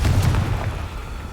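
A Confringo fire spell blasts in Hogwarts Legacy, a loud close boom with deep rumble that fades out over a second, no voices.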